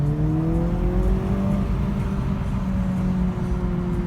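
A modified Mini Cooper S with a boost gauge accelerating hard at over half throttle, its engine note climbing steadily in pitch through a gear, heard from inside the cabin at a constant loud level.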